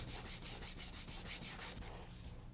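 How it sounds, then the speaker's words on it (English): Rhythmic hand sanding on a wooden parquet floor, about a dozen quick back-and-forth rasping strokes, close and steady, then stopping. "I'm taking it out with a scraper, and then I'm hand sanding"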